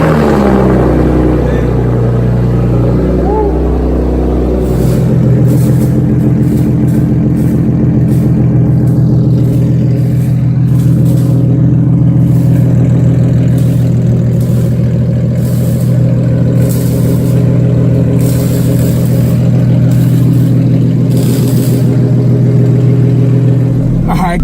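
A straight-piped, catless Nissan 370z with custom test pipes, its exhaust droning loud and close as the engine revs and then holds a deep, raspy tone while driving, with a voice briefly heard over it.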